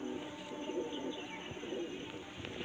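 A pure white pigeon coos softly and repeatedly in low, rounded calls, with steady background noise and no talk over it.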